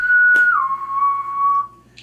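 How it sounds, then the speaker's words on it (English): A single shrill whistle sounds in a game scene at dawn as orcs emerge, holding a high steady tone, dropping slightly in pitch and sustaining before fading, with a sharp burst at the start. "this kind of like just this like rousing chorus of shrill whistles from all outside"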